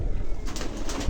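Kalshira pigeons with clipped wings cooing close by, a continuous low throaty murmur over about a second.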